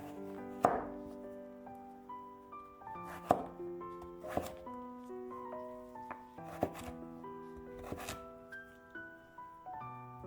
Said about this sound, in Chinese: 再改刀切成1厘米左右的长条，最后切成小方块。